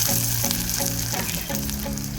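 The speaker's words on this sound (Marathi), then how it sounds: "तेल गरम झालेलं आहे, तर यामध्ये आपण आता बारीक चिरलेला कांदा घालत आहोत." Finely chopped onion frying in hot oil, a dense, steady close-up sizzle with faint crackles throughout and no voices.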